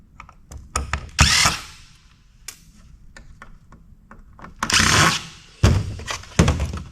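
A power tool, likely a drill or driver, works at removing a power board from a piece of scrapped e-waste, with several short loud bursts of whirring separated by scattered clicks and light knocks from handling the parts.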